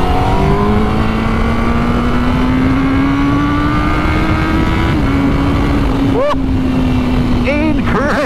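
A Honda CBR1000RR-R Fireblade SP motorcycle accelerating hard on an open road, its loud engine pitch climbing steadily, then rapid gear changes with quick rises in pitch, heard close over constant wind roar.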